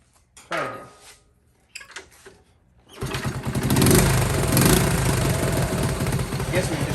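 A motorcycle engine on an auction bike cranks and catches after a few brief attempts, then settles into a loud, steady idle with rough rhythmic pulsing, close by, with short bits of talk before it starts.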